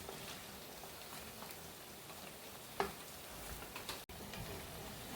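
Marathi fasting patties shallow-frying to golden brown in hot oil, a soft, even bubbling sizzle heard close but quiet, with a single sharper crackle partway through and a brief clunk near the end.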